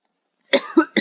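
A man coughs in a quiet room: a short burst of two quick coughs followed by the start of a third, alone with no other sound.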